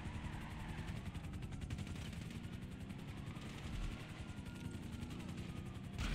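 A helicopter hovers overhead in the video game GTA 5 Online, its rapid rotor chop pulsing steadily through the whole stretch, mixed with bursts of gunfire and a low rumble.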